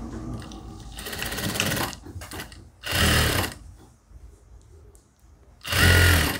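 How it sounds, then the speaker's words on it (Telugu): Sewing machine stitching the side fitting of a blouse top onto its lining, heard in three distinct runs of steady mechanical whirring, loud and close, separated by quieter pauses with handling noise. "సైడ్ ఫిట్టింగ్ వేసేటప్పుడు ఈ క్లాత్ మనం కుట్టిన క్లాత్ లోపలికి అనేసి ఈ లైనింగ్ మీద వచ్చేటట్టు కుట్టేసేద్దాం."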